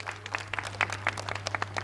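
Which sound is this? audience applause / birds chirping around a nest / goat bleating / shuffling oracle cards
audience applause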